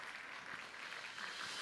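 A church congregation applauding during a Sunday worship service, a soft, even patter of many hands clapping that sounds distant and fairly quiet, holding steady for a short burst.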